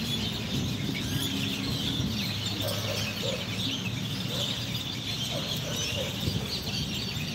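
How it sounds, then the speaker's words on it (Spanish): Small birds chirping outdoors during a stroll through Ciudad Cuauhtémoc, with scattered faint calls over a steady wash of ambient outdoor noise. "muy bonito cantar de los pajaritos"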